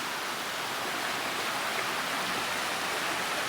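Stream water running steadily over smooth, polished black stone in a mountain village estate, a continuous close rushing wash with no pauses and no voices.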